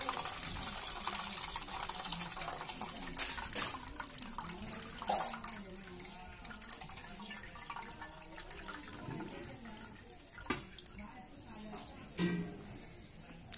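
Water is drained from a bowl of soaked urad dal during medu vada preparation, with splashing and trickling pours in bursts. Someone talks over much of it, and the clip ends with louder sloshing.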